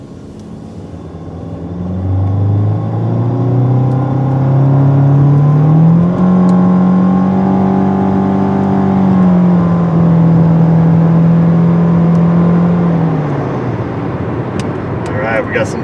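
Nissan Altima 2.5 with a rough-running, stalling fault and a lit check-engine light, its engine revving up from a low hum into a sustained rising whine, holding high for several seconds before easing off, with faint clicks near the end.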